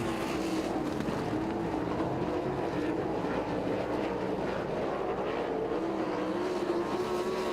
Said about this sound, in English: In behind Moody, the 21 of Campbell, then Crimes and Dietrich, and that's a 3-car race developing